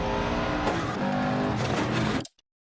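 A rally car in Dirt Rally 2.0 on an Australian stage downshifts from fifth to fourth, brakes and turns: a loud engine roar with tire skidding and squeal, cutting off abruptly into silence near the end.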